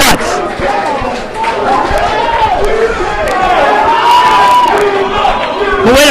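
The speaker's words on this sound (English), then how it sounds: "The crowd is going crazy." A tournament crowd roars steadily during a Super Smash Bros. Brawl singles bracket match at SiiS6, Judo's Sheik against Logic's Olimar. Excited commentators talk loudly over the dense cheering throughout.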